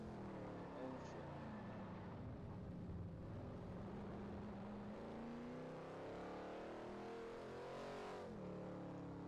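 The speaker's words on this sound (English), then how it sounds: "That definitely sounds like a V12, whatever it is." An engine hums and shifts pitch in the racing video game Forza Motorsport 4, a steady mid-distance drone with slow rises and dips, under faint background talk.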